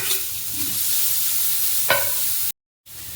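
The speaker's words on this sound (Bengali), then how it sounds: "এবার গাজরগুলো ভেজে নেব।" Grated carrots sizzle in hot ghee in a kadai, a continuous close hiss broken by a sharp scrape of stirring partway through, then a brief dropout to silence before the frying resumes.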